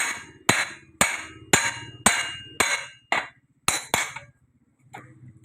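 Sharp metallic hammer strikes driving a pin into a chain, about eight in a steady rhythm, each ringing briefly before the next, close and loud with a final softer tap.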